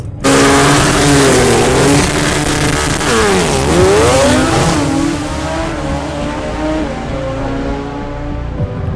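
Heavy Toyota race car in the modified class at a Sport Compact World Challenge drag event, its engine loud and close, revving hard with a rising then falling pitch sweep before settling into a sustained roar that fades slightly.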